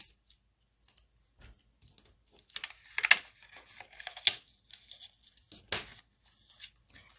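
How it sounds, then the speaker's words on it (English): Die-cut paper tags torn off a card-making sheet: a scattered series of small, crisp tearing and snipping ticks, close and fairly quiet, irregular and spaced out over otherwise near silence, no voices. "We'll take off the little tags."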